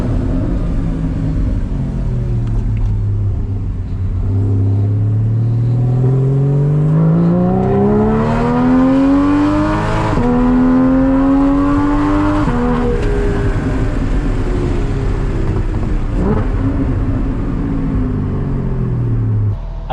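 Porsche 981 with a catless Soul Performance competition exhaust and PDK gearbox revving hard, a loud, close engine note that climbs steadily in pitch, dips and climbs again, sustained throughout with no talk.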